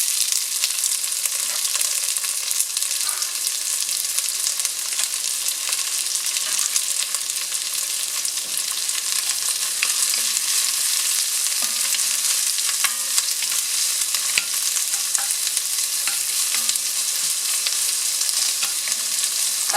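Chopped onion fries with ginger and garlic in a hot pan for a luffa vermicelli soup, giving a loud, dense, unbroken sizzle with light crackling throughout and no voices.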